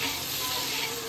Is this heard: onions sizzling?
yes